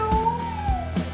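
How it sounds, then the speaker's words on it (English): A small cat gives one clear, drawn-out meow that slides slowly downward, heard close up over a few soft bumps and thuds. "Yes, we have only 1 cat, and that is a little cat."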